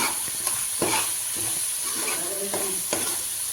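Masala sizzling in hot oil in a pan for matar paneer, a steady fry hiss broken by repeated scraping strokes of a stirring spoon; no talking.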